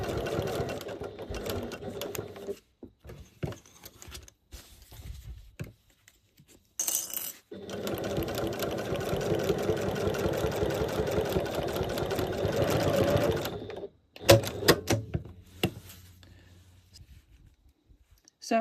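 Sewing machine stitching slowly through thick, heavy fabric for a zippered pouch, a steady run of rapid mechanical stitching after stop-start bursts, close and fairly loud, ending with a few separate clicks.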